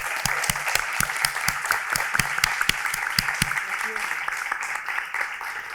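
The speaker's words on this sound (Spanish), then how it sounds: "Un aplauso para ellos, por favor." Applause from the audience at a panel discussion on audience management, with dense steady clapping and some sharp individual claps standing out, sustained for several seconds without fading.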